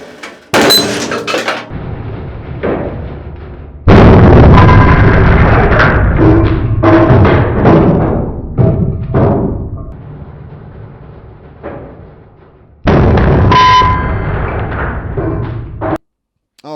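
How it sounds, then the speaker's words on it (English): A hydraulic press at slow speed crushes a cheap anvil against an expensive hammer, giving loud grinding, cracking strain with sharp bangs and thuds, a pause, then a final burst of heavy impacts before sudden silence. "I put the press to slow speed to make it even more terrifying."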